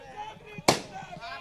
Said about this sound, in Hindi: पूरी तरह से पटाखेबाजी आप लोगों ने कर दी